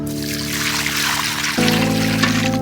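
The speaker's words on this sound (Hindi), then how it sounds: "तो ये देखो ये पानी दे दो" Water is poured from a watering can onto newly planted garden plants and vegetables, making a steady close trickle and splash that deepens and grows louder partway through.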